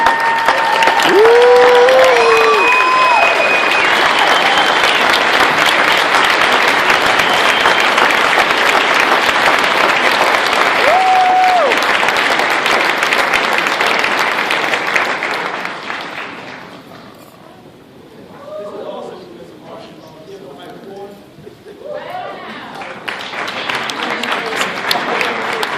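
Audience applause at a company promotion event, loud dense clapping and cheering with shouts and whoops that fades to a lull, then swells again.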